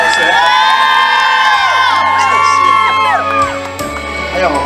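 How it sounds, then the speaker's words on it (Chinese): A concert audience at an outdoor school event in Pingtung, Taiwan, screams and cheers loudly and continuously, with excited high-pitched shouts and whoops rising over a steady crowd roar, alongside lingering music tones. "再来点尖叫声。"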